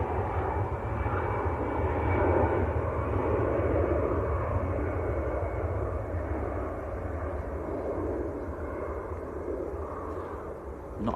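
An EasyJet airliner bound for Hamburg, Germany, passes Manchester Airport with a steady, broad jet-engine roar that holds loud and even throughout, with no voices.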